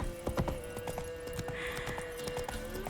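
Roach the horse galloping in The Witcher 3, with quick repeated hoof clip-clops under a faint steady game soundscape and a low tonal hum, heard fairly quietly.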